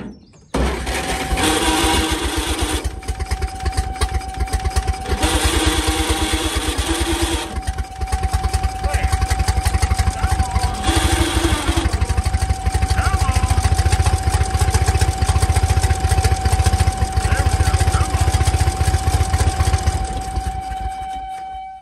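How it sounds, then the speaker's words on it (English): Old 1947 Dodge truck engine runs steadily with a rough, buzzing clatter and a constant whine from a noisy generator, loud and continuous throughout, with brief bursts of added rattle. "That generator is making a terrible noise."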